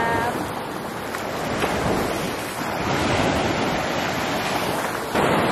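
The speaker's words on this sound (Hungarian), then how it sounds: "Ó, mekkora hullám!" Big sea waves crash and wash continuously onto a hidden beach in Cyprus, a loud, steady roar of surf mixed with wind buffeting the microphone.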